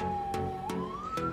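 An ambulance siren wails near the national sanctuary in Aparecida, a slowly sliding tone that rises toward the end, broken by three short bursts of noise and heard without voices.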